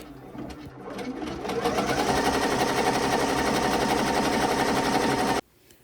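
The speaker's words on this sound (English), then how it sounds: "Now we go ahead and press start and let our machine work its magic." An embroidery machine sews out a placement stitch for a bow appliqué, a loud, close, continuous rapid whirring and needle chatter that builds over the first couple of seconds and then cuts off abruptly near the end.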